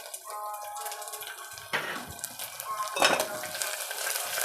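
Tempering spices and curry leaves frying in a pan give a lively sizzle, with a couple of sharp metal scrapes and clatters from stirring, close and fairly loud, without voices.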